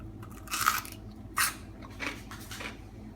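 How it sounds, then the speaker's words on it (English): Crisp, close crunches from biting and chewing firm, unblanched food, with two sharp bites followed by softer chewing crunches over a low background hum. "as you can hear by my crunching, hear that?"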